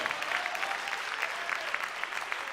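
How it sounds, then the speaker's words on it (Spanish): A church congregation applauds during a sermon, a dense, even roar of many hands clapping together that fills the space for a couple of seconds. "Dele fuerte ese aplauso al Señor."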